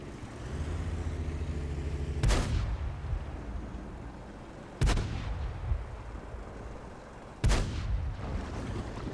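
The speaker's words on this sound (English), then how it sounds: "Hey look, both the artillery missed." Three heavy booming artillery shots in the World of Tanks game, spaced a few seconds apart, each a sharp loud blast fading into a rumble over a steady engine drone.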